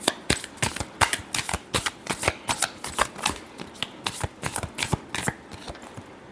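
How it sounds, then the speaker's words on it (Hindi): A deck of tarot cards is shuffled in quick, crisp riffling bursts, a steady run of close papery snaps and flutters with no talking. "last shuffle"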